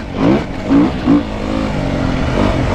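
A 2017 Beta Enduro RR motorcycle engine pulls hard in third gear, rising in three quick surging bursts before settling into a steady, close, loud drone.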